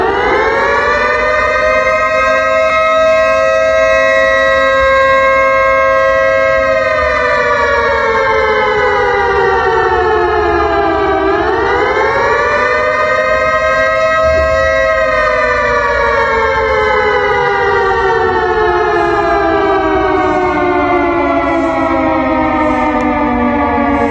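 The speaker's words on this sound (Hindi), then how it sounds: "7 मई को अगर आपके शहर में ज़ोरदार सायरन सुनाई दे" A civil defence air raid siren wails loudly and continuously in an Indian city, its pitch sliding up and down in long slow sweeps, dipping once midway and then rising again, with no voices over it.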